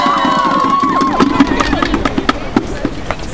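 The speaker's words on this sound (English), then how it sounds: "A big round of applause, ladies and gentlemen." Outdoor crowd at a street demonstration on Gammel Torv, Copenhagen, roaring and cheering with scattered shouts and sharp claps, busy and fairly loud throughout, with voices mixed into the noise.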